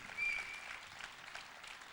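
A brief burst of audience applause for Mrs. Koshi Lalwani at the Nach Nach dance show in Dubai: soft, distant clapping from a hall crowd, fading quickly.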